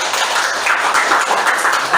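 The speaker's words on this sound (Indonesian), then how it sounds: "Oke, tepuk tangan." Students applauding in a classroom, a steady wash of many hands clapping together for about two seconds, loud and close, with no talk over it.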